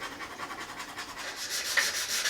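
Steady scraping and rubbing as old gunk is worked off a bathroom cabinet, close and continuous with a slightly rising intensity toward the end, with no voices over it.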